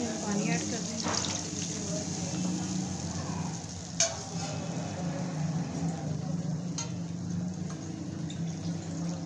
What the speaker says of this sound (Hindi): इसमें पानी ऐड कर देंगे।